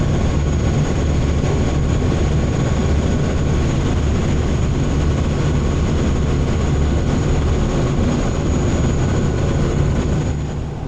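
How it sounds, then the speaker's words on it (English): Engines of a sightseeing boat on the River Thames in London run as a loud, steady, close droning roar. It continues unchanged for about eleven seconds with no voices. "it's very, very noisy on here when the engines are running"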